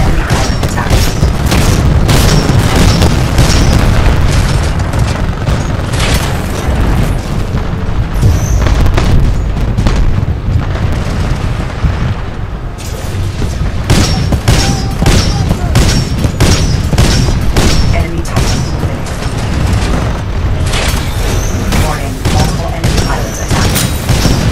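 Titanfall battle as a Titan is destroyed, with continuous loud booming explosions and rapid fusillades of gunfire packed densely throughout, intense and unbroken.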